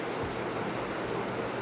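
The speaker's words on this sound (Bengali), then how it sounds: "হালকা বাতাস আছে আর বৃষ্টির ঝিরিঝিরি" Light wind and drizzle at a quiet wetland with anchored boats, a steady broad hiss of breeze and fine rain with no voices.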